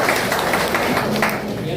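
An audience at a public meeting clapping to approve a resolution, a short dense burst of applause mixed with a voice.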